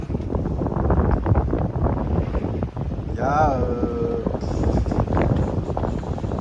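Steady wind rushing past the microphone aboard a sailboat in about 18 knots of true wind with full sail up, a continuous loud roar with water wash, as someone speaks briefly over it.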